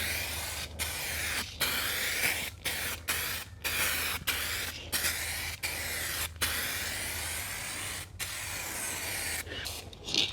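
A U-pol 2K aerosol spray can laying car paint onto a body panel: repeated loud, close hissing bursts, each a second or so long, separated by short pauses as the nozzle is released.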